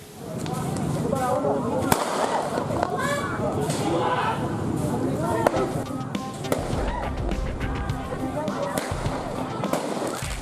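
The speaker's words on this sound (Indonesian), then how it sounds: "upaya polisi dibalas salah satu kubu dengan serangan petasan dan lemparan batu" Sharp firecracker bangs pop repeatedly amid a loud, chaotic street brawl crowd with shouting and thrown stones, a continuous din of voices and scattered blasts throughout.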